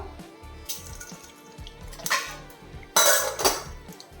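Half a teaspoon of mustard seeds crackle and splutter in hot oil for a drumstick leaves thoran, scattered pops swelling into two louder bursts of crackling over a soft, rhythmic low background.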